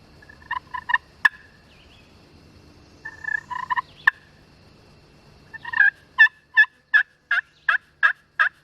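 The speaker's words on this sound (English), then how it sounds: "Every time I call, I think this might be the time that Gobbler responds." A wild turkey gobbler gobbles in a Florida public-land woods, a few scattered calls followed by a rapid series of about eight loud, evenly spaced gobble-like bursts, with no talking.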